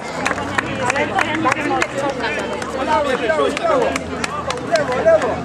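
Crowd at a harvest festival cheering and clapping for a wheelbarrow slalom race, a dense steady hubbub of shouts, whistles and applause with voices mixed throughout.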